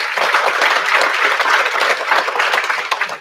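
Ceremony crowd giving a round of applause for 2021 EIP graduates at a senior recognition event, a dense, continuous wash of many hands clapping, loud and sustained.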